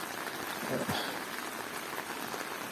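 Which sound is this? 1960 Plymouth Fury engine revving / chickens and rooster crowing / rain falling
rain falling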